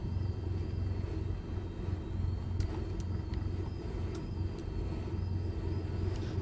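Cessna 172 Skyhawk piston engine in Microsoft Flight Simulator 2020 at a small airfield, throttle eased up with the parking brake on: a steady, low droning rumble with a faint whine and occasional light clicks, no voices.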